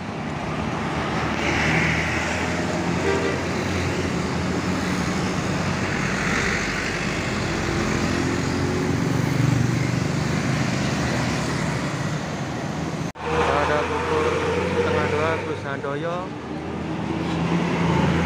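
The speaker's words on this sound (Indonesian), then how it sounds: "bus Bagong Big Bus atau Bagong Kuning meluncur melewati simpang 3 Ujang" The yellow Bagong Big Bus, an Indonesian intercity coach, rolls through a three-way road junction. A loud, sustained engine drone is heard together with roadway rumble, and there is a short break near the end before the traffic noise resumes.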